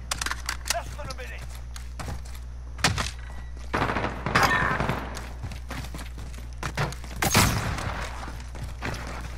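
Gunfire in Call of Duty Black Ops 4 comes in sharp bursts, loud and close, scattered across the clip amid thumps, with players talking over the action.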